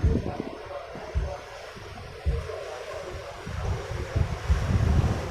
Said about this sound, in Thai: วันนี้คลื่นก็ไม่แรงเท่าไหร่นะครับ